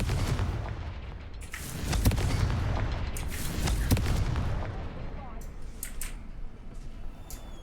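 Explosive blasts from the Confringo fire spell in the video game Hogwarts Legacy, with loud booming bursts around two and four seconds over a dense rumbling background of combat noise.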